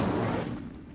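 An Incendio fire spell is cast in Hogwarts Legacy: a single short, loud whooshing burst that fades over about a second.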